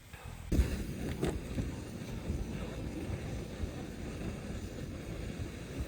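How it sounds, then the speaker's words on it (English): Steady wind blowing across an outdoor hammock campsite at Shaffer Bend, a broad continuous rush with one brief louder gust or bump near the start, no speech over it. "the wind hadn't quite died off yet. I mean, it's a lot lighter than it was"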